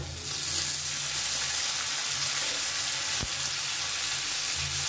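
Chopped tomato goes into a pan of frying onion and garlic for an eggplant mash, giving a loud, steady sizzle with a brief clack partway through, no voices.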